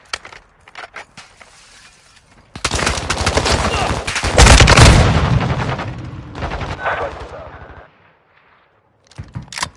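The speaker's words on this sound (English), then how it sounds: "I'm taking enemy fire." Video game enemy gunfire erupts as sustained loud bursts of automatic weapon fire with booming impacts, lasting several seconds before cutting off, framed by a few isolated sharp shots.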